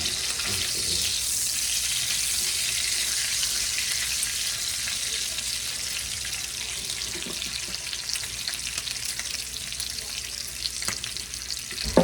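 Store-brand bacon fries in a stainless pan and a cast iron pan on medium heat, giving a steady close crackling sizzle with faint pops throughout and no talking.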